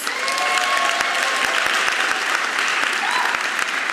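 Applause from an audience at a speech night awards event, a loud, steady crowd clapping that holds evenly across the whole stretch with a few sharp individual claps standing out.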